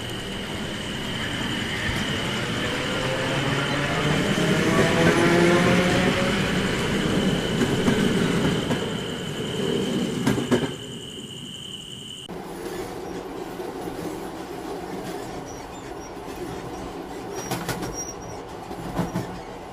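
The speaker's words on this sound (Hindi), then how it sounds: "जैसे ही ट्रेन आती है" A train pulling in and running along rails at night, a loud steady rumble with metallic wheel squeal and clatter that drops abruptly after about ten seconds to quieter interior rolling noise, no voices.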